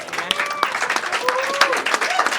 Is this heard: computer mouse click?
no